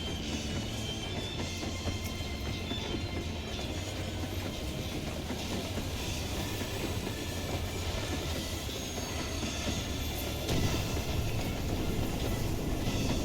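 A train rolls steadily through a Final Fantasy XIV battle, its wheels clattering in a dense, continuous rumble that holds at a constant level throughout.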